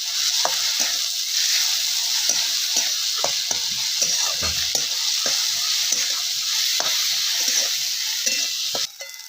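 Green garlic thecha, garlic greens pounded with chillies, sizzles steadily in a hot pan while a spatula scrapes and stirs it in frequent irregular strokes, close and fairly loud, with no talking.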